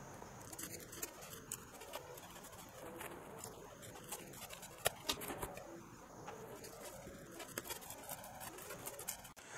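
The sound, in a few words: cutting with scissors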